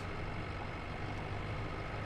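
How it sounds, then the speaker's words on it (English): Tractor engine driven in the Far Cry 5 video game, a steady low idling rumble that holds at an even level throughout with no talking. "I'm going to drive a tractor."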